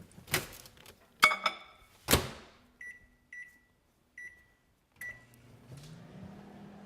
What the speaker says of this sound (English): I have 2 tablespoons of butter that I'm going to melt in the microwave.